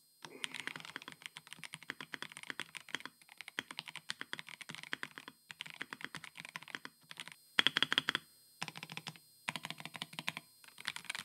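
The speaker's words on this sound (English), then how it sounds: "Here's a little typing test for you ASMR fans." Keyboard fitted with pre-lubed Kale box plastic switches being typed on, close and crisp, fast bursts of clacky keystrokes with brief pauses between runs, no talk over it.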